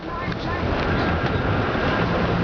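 A sailboat under sail off Marathon near Sombrero Reef, heard as steady wind rushing over the microphone with water and hull noise beneath, loud and continuous.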